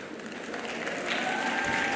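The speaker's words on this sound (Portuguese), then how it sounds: "Palmas para Valéria." Soft, distant audience applause for a speaker at a data and analytics career talk, a low wash of claps that swells slightly toward the end, with faint voices underneath.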